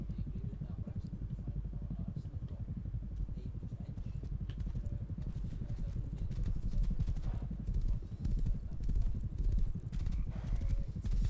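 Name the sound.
horse hooves clopping in the Rust video game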